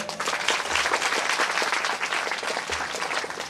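Audience at a Bhagwat Katha religious discourse applauds loudly, with dense, steady clapping running continuously from start to finish, close and full, with no talk over it.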